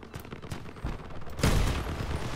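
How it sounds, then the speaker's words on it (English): Vehicle-mounted cannon firing in the combat car game Crossout, a few sharp booming blasts with a louder, heavier shot and rumbling engine noise after it, close and loud. "I'm now running the cannon, as you saw me buy."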